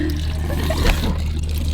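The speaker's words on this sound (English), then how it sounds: "That is some fresh water." Fresh water runs from a just-repaired water fitting at a Florida winter stay, a steady close trickle and splash lasting under two seconds with no talk.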